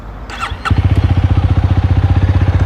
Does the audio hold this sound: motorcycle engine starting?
yes